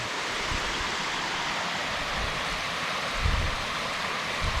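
A waterfall on a mountain trail roars steadily and evenly, a dense broadband rush of falling water that stays constant throughout with no voices.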